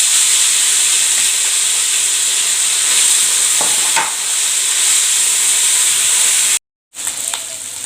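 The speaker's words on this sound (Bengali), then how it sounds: "এখন তেলটাও গরম হয়ে গেছে, মাছগুলো ভাজা নেব।" Loud, close sizzling of small fish frying in hot oil, a steady crackling hiss that runs continuously and cuts out briefly near the end.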